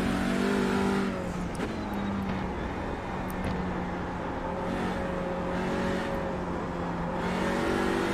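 A TCR touring race car in the iRacing sim at Sonoma Raceway closes in from behind, its steady engine drone blending with the player's own car noise, a continuous loud whine with shifting revs throughout.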